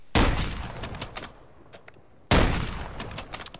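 Two loud bursts of gunfire from a sniper rifle in Call of Duty Warzone, each a sharp blast trailing off into echoing rattle, spaced about two seconds apart.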